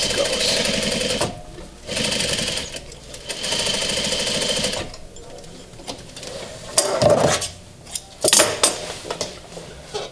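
A sewing machine sews piping onto a sofa cushion in short bursts of rapid stitching separated by pauses, with clinks of handling in between.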